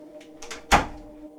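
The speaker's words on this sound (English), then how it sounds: "I shut the front door behind us and hurriedly locked it." A villa's front door is shut with one close, solid thud, preceded by a few faint clicks and set against a low background hum.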